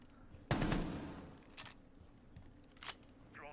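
Automatic gunfire in Rainbow Six Siege during a collegiate esports match, a loud opening burst followed by two shorter later bursts, with faint background noise between them.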